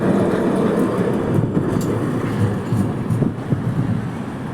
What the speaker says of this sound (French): donc là il y a l'autre tram, il part, donc il va en direction de la gare Montpellier, sud de France.